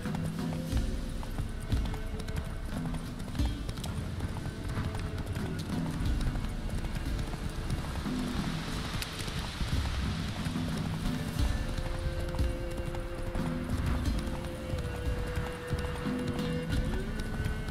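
Roach the horse gallops in The Witcher 3, with continuous rhythmic hoofbeats close by, steady and loud throughout over a low ambient backdrop.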